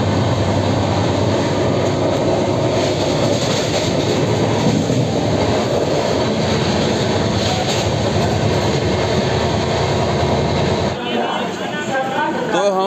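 The Bihar Sampark Kranti express runs along the rails and pulls into Kanpur Central, a loud continuous rumble and rattle of the coaches heard from on board that drops away near the end.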